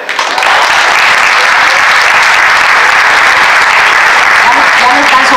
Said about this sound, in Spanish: Yo creo que merece un gran aplauso.